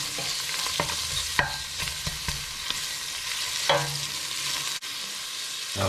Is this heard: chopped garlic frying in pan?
yes